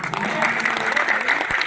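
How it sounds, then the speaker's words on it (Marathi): Steady applause from a live audience for folk performers at the Ellora Ajanta International Festival, dense and sustained throughout, with a voice faintly mixed in underneath. "अस्सल लोककलेचा बाज ऐकल्याबद्दल जोरदार टाळ्या द्यायला पाहिजे आपण सर्व कलावंतांना"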